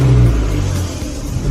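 A car engine idles and hums with a low, steady rumble while the vehicle creeps slowly forward with the steering turned to full lock, close and continuous, no voices.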